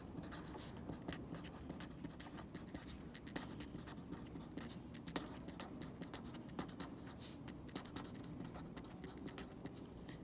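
A pen scratches across paper while notes on adding and subtracting polynomials are written out, a quiet run of quick, uneven strokes and taps that goes on without pause.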